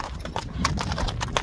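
Hooves of a horse named Raketa, an eight-year-old standing about 1.60 m, clip-clopping in a quick uneven rhythm of close, moderately loud strikes over a low background rumble.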